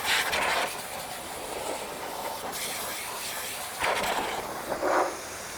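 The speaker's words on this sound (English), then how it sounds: "I'll actually use the blower" Air blower drying water off a car wheel and tire after wheel cleaner, a steady broad hiss with louder gusts at the start and near the end, close and without talk.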